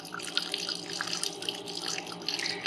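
Water from an RV deionizer tank poured out after back flushing, a steady splashing, trickling stream close by with no talk.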